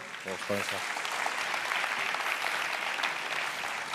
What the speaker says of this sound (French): Oussama Ammar, vous pouvez l'applaudir encore